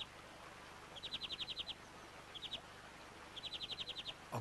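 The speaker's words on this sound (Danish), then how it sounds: "Det er for eksempel kvækerfinken med sine stribede vinger." Bramblings call at a winter bird feeder, quiet repeated bursts of rapid high chirps in three separate runs, the middle one brief, with no voices.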